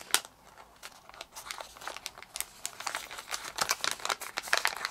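Paper crinkles and rustles steadily as it is creased and folded into an origami panther face, a close, continuous crackling texture with quick sharp bursts and no voices.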